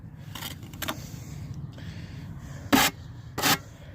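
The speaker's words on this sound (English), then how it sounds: "This trowel is old and ain't been used for a while, so she's kind of gripping instead of sliding and smoothing." An old, long-unused trowel drags and grips over fresh material during a chicken coop repair, making short raspy scraping strokes, two of them louder near the end, over a low background rumble.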